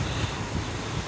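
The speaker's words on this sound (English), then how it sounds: "It is getting windy out. You can hear the wind." Broadband wind roaring and buffeting against a microphone, steady and loud with low gusty rumbles, no voices.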